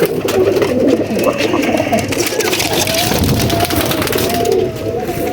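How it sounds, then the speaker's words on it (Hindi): Pigeons kept as fancy breeding pairs in a hobbyist's loft coo steadily and close by, a dense, continuous murmur of overlapping low calls with a faint mechanical hum and some muffled voices in the background. "ये देखें दोस्तों, ये कबूतर है जिसका अभी शो कराया।"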